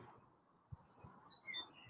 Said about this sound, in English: they still just carry on singing anyway, don't they?